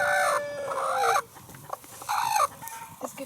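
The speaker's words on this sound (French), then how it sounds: "Mac, comment reconnaître une poule qui couve? Voilà, ça fait ce bruit-là" A broody hen gives low, drawn-out clucking murmurs in two close bursts separated by a short pause, with quieter rustling in between and no talk.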